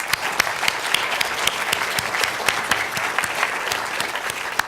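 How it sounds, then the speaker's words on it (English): A room full of people claps steadily for innovators at an MIT Sloan showcase, a loud, even wash of applause with sharper individual claps popping through and no voices. "let's give a round of applause for all of our innovators"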